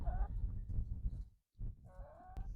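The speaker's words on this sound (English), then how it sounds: "Chicken herding time." Chickens in a backyard chicken run let out nasal, warbling clucks in two short bursts, close by, over rustling movement and a brief quiet gap in the middle.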